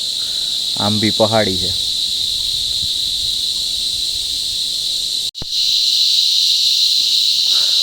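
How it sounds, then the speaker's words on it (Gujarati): A loud, continuous high-pitched cricket drone fills a hilly Gir forest without pause, with a brief spoken remark early on. "આ જે અવાજ સંભળાય ને તમરા છે"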